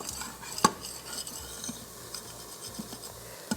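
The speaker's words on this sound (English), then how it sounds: "we're scraping that flavor off the bottom of the pot" A metal spoon scrapes the bottom of an Instant Pot where onions have been sautéed golden, giving one sharp clank and then quieter intermittent scrapes and rubs, close and fairly faint.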